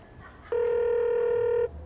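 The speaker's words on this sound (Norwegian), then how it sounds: "Nå ringer jeg." A phone line gives a single steady electronic ring tone lasting about a second, loud and clear against a quiet background, with no talk.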